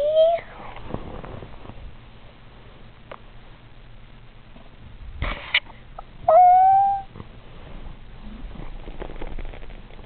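Cat meowing indoors, a couple of short clear meows, one at the start and a louder one in the middle, with a brief soft thump and faint room noise between.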